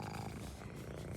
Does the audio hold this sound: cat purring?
yes